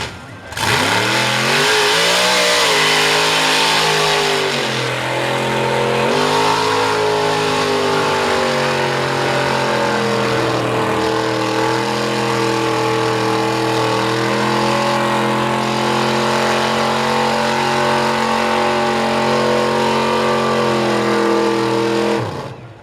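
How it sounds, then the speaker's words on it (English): A mud truck's engine revs loud and close throughout as it churns through mud for the first time at a mud event, the pitch rising and falling in long surges with no talk. "So this is the first time for this truck in this mud."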